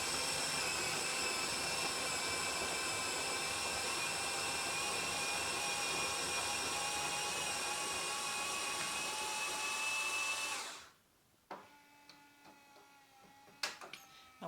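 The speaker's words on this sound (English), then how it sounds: "Now whilst that's busy grinding the beans for me" A Melitta Caffeo Barista TS bean-to-cup machine grinds coffee beans in a steady, loud, continuous whir for about ten seconds, then stops abruptly, leaving faint clicks and ticks from the machine afterward.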